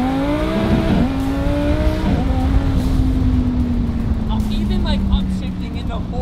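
A rebuilt turbocharged Ferrari accelerates hard, the engine note rising and shifting through gears in a loud, close roar, with a voice talking over it.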